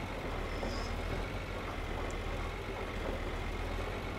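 A tractor crosses a freshly sown field in the farming game Farming Simulator 2013, giving a steady, droning engine rumble that holds close and even throughout, with no talk over it.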